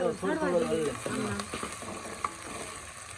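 Green chilies frying in hot oil in a village kitchen, a steady close sizzle with a brief stir and a soft clink near the end, while someone talks over the start.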